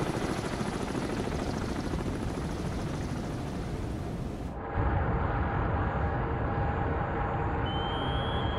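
Helicopter in a submarine video game, a dense continuous rotor roar that shifts in tone partway through and stays loud without voices.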